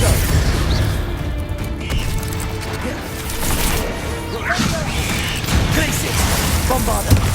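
Confringo fire spell blasts in Hogwarts Legacy, a dense run of crashing impacts and booms under loud, continuous combat noise, with spoken incantations over the top.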